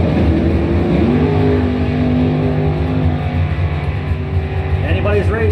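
Chevrolet drag race cars roar down the strip at a Pro Trophy points event, engines loud and close with rising pitch as they accelerate, while an announcer talks over them throughout.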